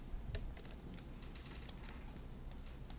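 Typing on a computer keyboard while entering text in illustration software, a steady patter of soft key clicks with a few sharper taps, close and fairly quiet with no talking.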